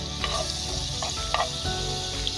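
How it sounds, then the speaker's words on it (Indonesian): Eggs fry in butter in a pan with a steady, close sizzle, joined by brief scraping and stirring sounds now and then, and no talking. "tambahkan lagi mentega untuk menggoreng telur"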